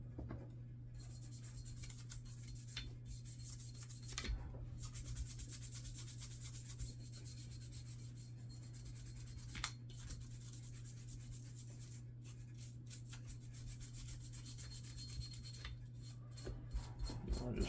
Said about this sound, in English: I'll just scrub down the whole outside of it.